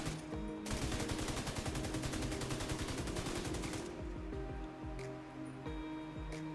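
Rapid automatic gunfire from The Division 2 hammers out in a dense, sustained burst for several seconds, then gives way to a few sparse separate shots.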